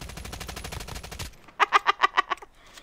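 Rapid automatic gunfire in the Call of Duty battle royale game, a dense fast burst followed by a short rhythmic string of about eight distinct shots, loud and close.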